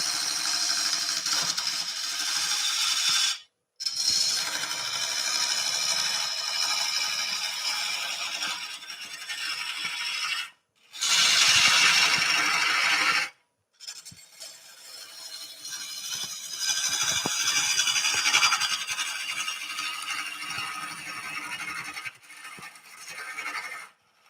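A wood lathe spins a dense, hard yew hollow form slowly, at around 700 to 800 rpm, giving a rough scraping hiss that swells and fades across several cuts, with a few short silent breaks.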